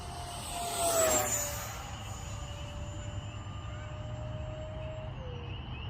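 A model F-86 Sabre jet flies overhead, its whine sweeping loud past the listener and then thinning into a distant, steady tone as it climbs away.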